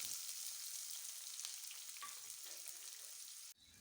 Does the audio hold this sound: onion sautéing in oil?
yes